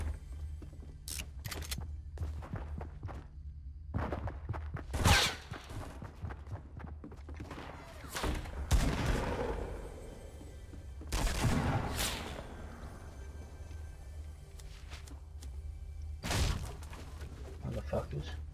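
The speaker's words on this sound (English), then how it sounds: "Why is everyone trying to shoot me?" Gunfire aimed at the player in Fortnite Battle Royale, scattered single shots and bursts with sharp cracks and impacts spaced across the stretch, under frequent talk from a player.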